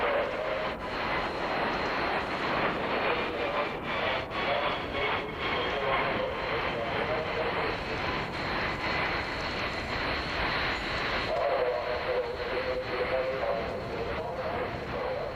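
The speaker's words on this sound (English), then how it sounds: "It's not often you see a passenger aircraft give such a spectacular performance" A passenger airliner performs a flying display at the 1998 Farnborough airshow, its jet engines a steady, broad roar with a faint droning tone that holds for the whole stretch without fading.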